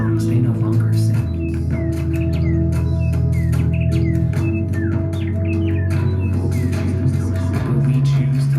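Birds sing in quick repeated chirps and tweets, scattered across the whole stretch over a loud, steady low droning backing.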